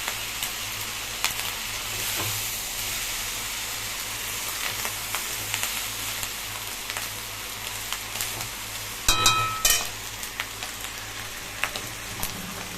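Rice goes into a pan of browned chicken for chicken pulao, with a continuous soft sizzle, scattered light scrapes and clicks, and a louder burst of stirring near the end.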